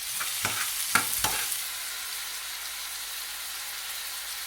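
Chopped onion, one large onion's worth, hits a hot pan for hotel-style kothu parotta, giving a few sharp crackling bursts early on before settling into a steady, bright sizzle with no talking.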